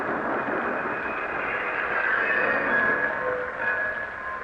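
A train rolls along with a steady broad rumble, and faint metallic squeals ring out as it slows, with no voices.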